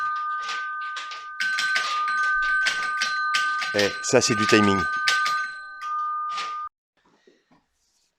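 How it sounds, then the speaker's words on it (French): A doorbell chimes with sustained ringing tones while a person talks over it, then the ringing stops abruptly, leaving near silence. "les coups de sonnette, c'est mes très chères belles filles qui viennent d'arriver justement"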